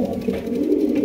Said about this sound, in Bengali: এখানে রয়েছে চমৎকার একজোড়া মুখী কবুতর, ব্ল্যাক মুখী